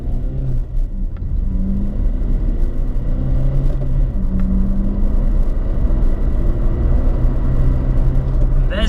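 Renault Clio accelerating hard from a standstill to 60 mph, a close interior engine drone rising in pitch through several gears with brief dips at each shift over a steady road rumble.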